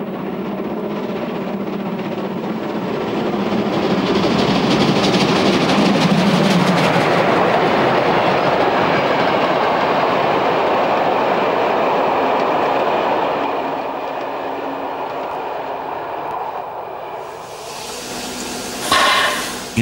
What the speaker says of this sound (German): Bahnhofsdurchfahrt in Oberkotzau.